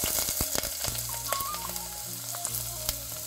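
Chopped garlic, small shallots and ginger frying in oil in a pan, a close crackling sizzle punctuated by sharp spatula clicks and scrapes, no talking.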